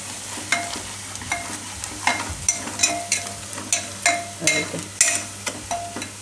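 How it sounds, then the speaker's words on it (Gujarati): Red chili powder gets stirred into hot oil in a pan while making a Gujarati suran shaak, the oil sizzling steadily under repeated scraping strokes of a spoon, close and fairly loud. "અને આપણે મિક્સ કરી લેવું તેલમાં."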